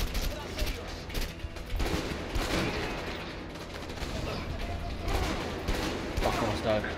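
Video game gunfire from A Way Out crackles in repeated bursts of rapid shots, loud and dense, mixed with excited talk from players over the action.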